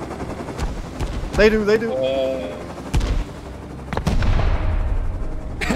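Satchel charges blowing up amid gunfire in the survival game Rust, with sharp bursts of shots and heavy blasts near and loud, broken by brief talk.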